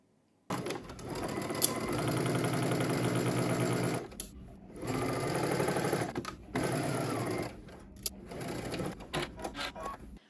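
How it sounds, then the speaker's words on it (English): A sewing machine runs steadily at close range, stitching a five-eighths-inch dress seam from bottom to top in long continuous runs broken by a few brief stops and clicks. "head to your sewing machine. You're just going to stitch 5/8 of an inch, starting at the bottom, working your way up"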